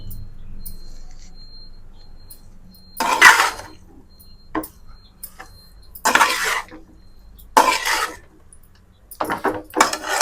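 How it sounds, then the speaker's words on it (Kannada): Rice being fried in a hot pan with a metal ladle, with several distinct scraping and clattering bursts of metal on metal separated by quiet gaps. "ಬಿಸಿ ಇದೆ ಬಾಣಲಿ, ಹಂಗಾಗಿ ನಾನು ಇಕ್ಲ ಇಟ್ಕೊಂಡು ಫ್ರೈ ಆಡ್ತಾ ಇದ್ದೀನಿ"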